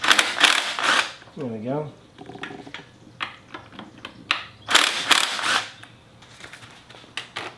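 Wrench work on 10 mm caliper bolts of a Honda XR650R dirt bike: a few ratcheting clicks and metallic rattles close up, briefly set among short spoken remarks.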